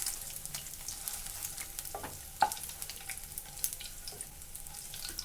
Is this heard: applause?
no